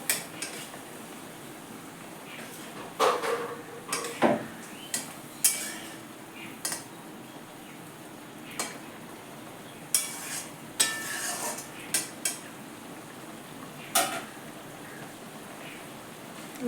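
Fried fish being turned in a simmering curry in a pan: sporadic clinks and scrapes of a spatula against the pan over a faint bubbling background, close and fairly quiet, with no voices.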